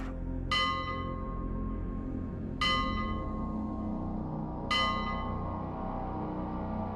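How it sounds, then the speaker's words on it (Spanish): Three separate strikes of a large bell, each ringing out and slowly decaying over a low rumbling background, spaced about two seconds apart. "Sin embargo, las campanas se escuchaban detrás."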